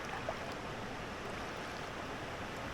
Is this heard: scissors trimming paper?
no